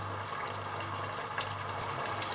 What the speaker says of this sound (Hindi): अब हम इसमें पानी डाल के कवर करके रख देंगे कीमा गलने तक के लिए।